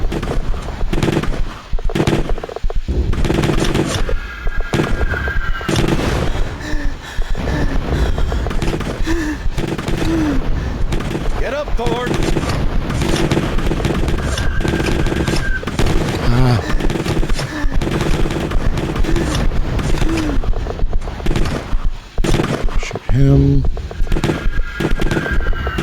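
Gunfire in the video game Letters of Bernard Thorne cracks in dense, repeated bursts through a loud, chaotic battle mix, with shouting voices layered over the shooting throughout.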